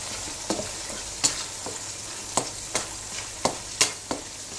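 Curd and spices fry over low heat in a pan while a spoon stirs them, giving a soft steady sizzle broken by about eight sharp scraping clinks at irregular intervals, close and moderately loud.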